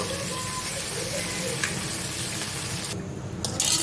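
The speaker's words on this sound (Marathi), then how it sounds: "तर तेल आपला गरम झालेला आहे त्याच्यामध्ये आपण टाकलेले आहेत प्रॉन आणि ते करूया आपण दोन ते तीन मिनिट फ्राय" Prawns frying in hot oil, a steady hiss and crackle of sizzling filling the whole stretch, close and even, with a brief louder clatter near the end.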